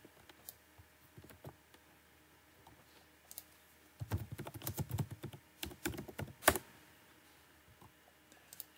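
Typing on a computer keyboard, soft scattered key clicks at first, then a denser burst of quick keystrokes in the middle before tapering off, close and quiet.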